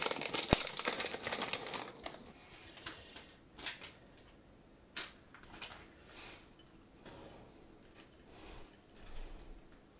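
A crinkly plastic LEGO Series 24 minifigure bag is torn open up close: sharp crackles and crinkles burst loudly at first, then come as softer scattered rustles, quiet and without talk.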